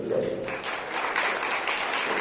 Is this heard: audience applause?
yes